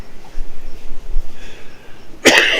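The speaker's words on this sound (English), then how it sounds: "A little bit of that cough left." A single sharp cough bursts out near the end after a quiet stretch, close and loud, from a person recovering from being sick.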